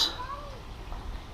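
A single cat lets out a short meow near a cave entrance at a campground, a quick rising cry at the start that fades into quiet outdoor background.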